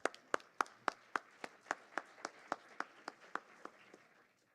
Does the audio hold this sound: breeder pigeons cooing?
no